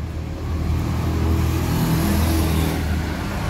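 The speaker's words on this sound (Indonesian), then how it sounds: "Ini bus Dream Coach." A Sinar Jaya Dream Coach double-decker bus engine rumbles steadily and close by on a drizzly, overcast day, a continuous low-pitched drone that swells slightly after the first half second and holds without talk.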